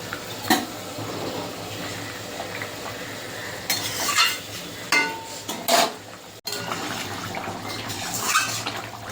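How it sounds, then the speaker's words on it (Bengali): Fried katla fish pieces slide into a pan of boiling curry, bringing a few sharp splashes and clatters of a spoon against the pan over a steady bubbling simmer, close by with no talking. "ঝোল ফুটে গেছে, ভেজে রাখা মাছগুলো এবার দিয়ে দেবো।"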